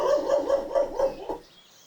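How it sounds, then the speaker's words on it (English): Max the dog barking in an Old School RuneScape quest area, a quick run of five or six evenly spaced small barks that then trail off, moderately faint. "Max is barking at something."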